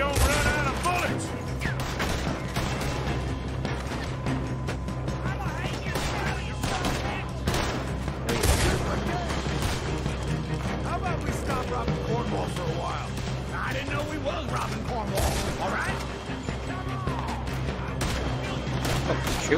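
Gunfire rattles through a shootout in the Western video game Red Dead Redemption 2, with dense, overlapping shots and bursts crackling continuously alongside game voices and speech.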